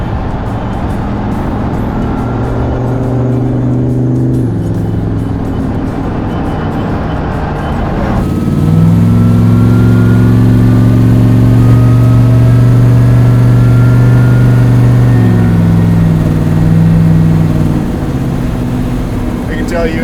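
A car engine hums steadily while driving, then rises in a louder rev partway through and holds a strong drone, with people chatting over it close by.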